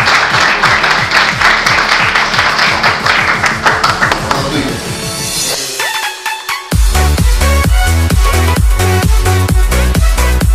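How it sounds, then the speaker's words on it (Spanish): A crowd at a photography workshop event in Bolivia applauds a welcomed guest over loud, beat-driven music; the clapping thins after a few seconds and then the music carries on alone. "Un fuerte aplauso para Julia."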